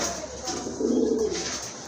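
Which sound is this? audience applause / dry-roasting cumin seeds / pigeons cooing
pigeons cooing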